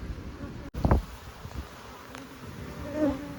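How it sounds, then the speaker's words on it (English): Honey bees buzz around an open hive at close range, a continuous hum with individual bees zipping past the microphone, plus a brief knock and some soft rustling. "They're buzzing around my face, but they're not hitting me much"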